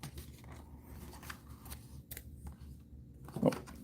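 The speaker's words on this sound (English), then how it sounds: "Okay, let's get the scissors here." Scissors snipping decal sheets of road numbers for a Norfolk and Western Alco model locomotive, a single quiet cut near the end over faint room noise.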